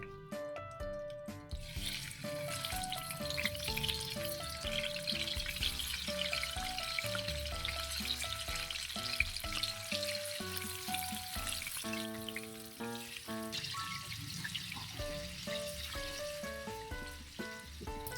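Tofu pieces fry in a pan of hot oil, giving a loud, steady sizzle that runs unbroken for the whole stretch.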